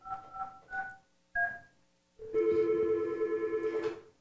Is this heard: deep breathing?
no